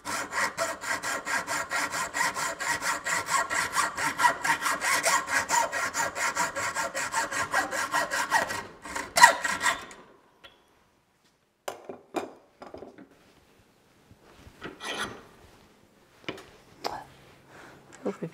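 A hand saw cuts through a wooden dowel used as a locating pin in a machine shop, fast rhythmic rasping strokes for several seconds, then silence broken by scattered light clinks and handling noises.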